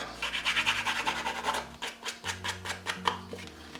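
Artist trading cards being scratched for a craft project, a quick run of rhythmic rubbing strokes close by, with no talk.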